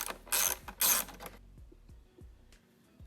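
Ratchet clicking in two quick bursts while bolts are backed out of the engine air filter housing on an Audi, up close, followed by light knocks and handling of loose parts.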